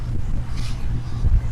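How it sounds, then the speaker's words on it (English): Wind buffets and rumbles steadily across a boat on the water, a low, close, roaring gust noise hitting the microphone. "the wind has suddenly kicked up"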